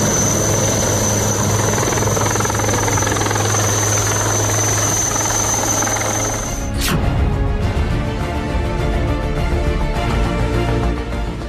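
An army rescue helicopter during flooding fills the clip with steady rotor thrum and engine whine, loud and continuous, with a sharp shift in tone partway through as it passes.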